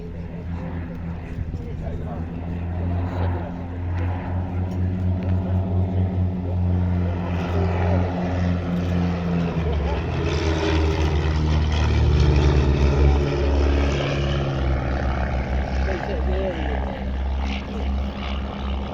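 A Chipmunk vintage propeller plane drones overhead at an airshow, a steady buzzing engine note that swells louder midway and then eases, heard beneath an announcer speaking over a loudspeaker.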